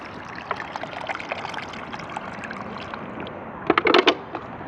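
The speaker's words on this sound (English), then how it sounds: "a pouring bucket flush." Water from a bucket is poured into a clay forward-trap toilet outdoors to flush it. A soft, steady trickle builds into a brief louder splashing gush near the end.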